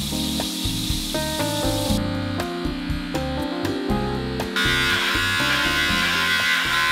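Electric hair clippers buzz continuously and loudly at close range while cutting hair, with the pitch shifting as they move through it and no speech.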